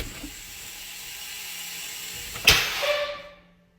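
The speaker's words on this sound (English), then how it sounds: "Definitely an air leak." Quiet low hum, then a sudden sharp burst of hissing air from a leak in a 1979 Western Star truck's air brake system, swelling briefly and fading away over the next second.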